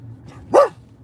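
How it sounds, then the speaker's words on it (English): A dog gives one sharp, loud bark close by, rising quickly and fading within a fraction of a second. Faint background hum surrounds it, with no talking. "He's barking like this way, like, boom."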